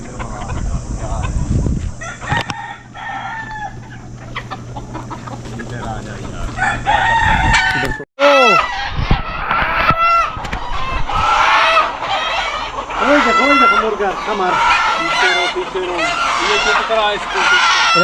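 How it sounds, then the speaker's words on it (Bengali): A flock of local free-range chickens at a hillside farm in Saudi Arabia clucks and crows loudly and continuously, with roosters crowing over busy clucking while people talk nearby. "অনেক মুরগি সব দেশি দেখেন মাসাল্লাহ কত সুন্দর লাগতেছে"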